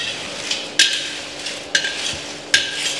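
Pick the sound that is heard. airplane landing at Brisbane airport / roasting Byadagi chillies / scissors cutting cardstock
roasting Byadagi chillies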